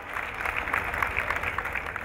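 Audience clapping at an Eid mushaira poetry gathering, a steady patter of many hands at moderate volume that neither builds nor fades.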